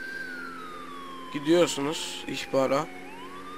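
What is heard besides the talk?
police car siren in video game GTA 5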